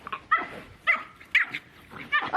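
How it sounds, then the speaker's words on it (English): An excited dog with the zoomies lets out a run of four or five sharp yips and barks, fairly close, spaced roughly half a second apart as it dashes around indoors. "This dog is nuts. Doggo has zoomies."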